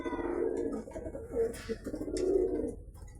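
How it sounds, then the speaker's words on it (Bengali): Pigeons on a small home pigeon farm coo in repeated low, throaty bursts, fairly close and steady for a few seconds with no talking over them. "কবুতরের ডাক তো শুনতেই পাচ্ছেন"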